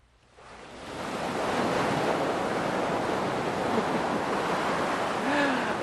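Ocean waves surge in as a broad, continuous roar of surf that swells from quiet to full strength within a second and holds steady, with faint wind mixed in.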